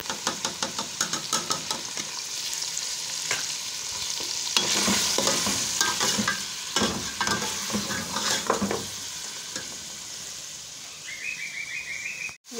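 Beef pulao stirred and frying in a pot after yogurt goes in, a steady sizzle with repeated scraping stir strokes at close range, plus faint bird chirps in the background.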